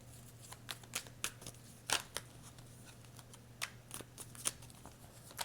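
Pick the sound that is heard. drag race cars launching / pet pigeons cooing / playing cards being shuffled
playing cards being shuffled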